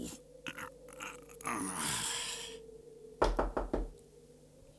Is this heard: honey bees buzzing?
no